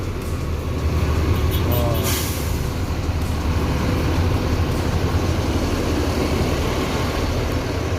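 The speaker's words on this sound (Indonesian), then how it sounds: "Bus Sembodo Executive Plus." Sembodo Executive Plus coach idling and pulling in at the Omega roadside restaurant stop in West Sumatra, a steady low engine rumble with a brief hiss of air near the start.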